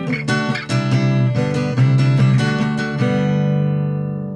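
Guitar plays the fast, tricky section of a song, quick bright strums and picked notes in a busy run lasting about three seconds, then a final chord left ringing and fading.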